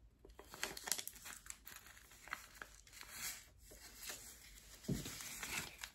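Paper crinkling and creasing as it is folded into a mini car toy, with close, irregular rustles and a few sharper crisp crackles throughout.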